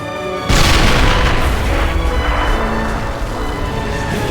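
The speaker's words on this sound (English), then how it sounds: "That was an explosion." A loud, sustained boom erupts suddenly and rumbles on for several seconds, an explosion in a toy war battle on the Eastern Front.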